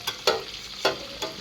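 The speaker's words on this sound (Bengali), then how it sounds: "মাছের মাথা ভাজা" Fish heads fry in hot oil in a wok, giving a steady close sizzle broken by three or four sharp scraping stirs at irregular intervals, with no voices.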